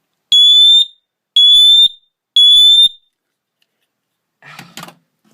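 A small Kidde P1000 smoke detector sounds three loud, piercing high-pitched beeps at a steady rhythm, followed by a brief faint rustle.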